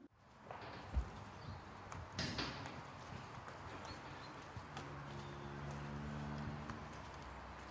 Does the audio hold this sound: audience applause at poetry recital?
no